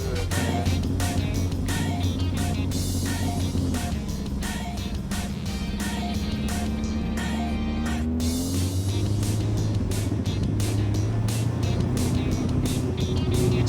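A split bumper Camaro muscle car idles and rumbles up close, a loud, lumpy low drone with the engine note dipping and rising, and voices talk faintly underneath.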